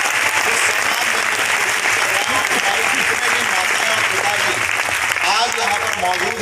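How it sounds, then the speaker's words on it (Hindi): Audience applause at a Smart Value platform event, dense and loud clapping from a crowd that carries on steadily throughout. "तो स्मार्ट वैल्यू प्लेटफॉर्म के लिए एक बार जोरदार ताली"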